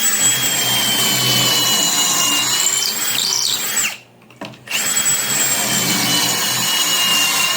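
A power drill bores pocket holes into wood clamped in a jig while making kitchen cabinet face frames, running loud and steady, stopping for about half a second, then whirring on again nearby.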